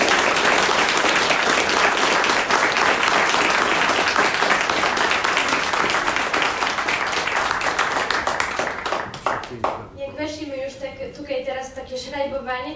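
Audience at a book premiere in a theatre breaks into loud, sustained applause for about nine seconds, then the clapping thins out as a voice begins speaking.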